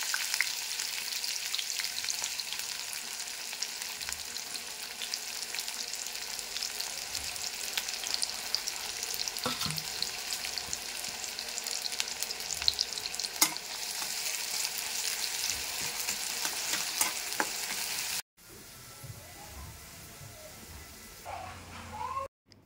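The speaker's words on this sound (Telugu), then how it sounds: "పొడవుగా కట్ చేసి పెట్టుకున్న ఆనియన్స్ని కూడా వేసి లైట్ గోల్డెన్ కలర్ వచ్చేంత వరకు ఫ్రై చేసుకోవాలి" Long sliced onions frying in hot oil in a kadai for Hyderabadi chicken dum biryani, a loud dense crackling sizzle with occasional spoon clinks, dropping to a quieter hiss near the end.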